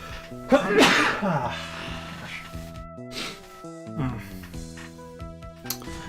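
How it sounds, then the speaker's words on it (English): A single loud sneeze in Etrian Odyssey V game audio, followed by softer vocal sounds over background game music. "Oh, that's a sneeze."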